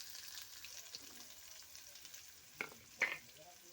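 Onions dropped into hot oil with cumin, mustard seeds and curry leaves for a pundi palya chutney, giving a faint, low sizzle with two sharp little pops near the end.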